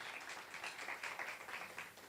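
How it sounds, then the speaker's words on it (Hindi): Faint, steady applause from an audience at a church Christmas program of singing and a Bible quiz, with clapping that swells and eases slightly across two seconds. "और भाई रिचर्ड के लिए भी तालियां बजाएं जी"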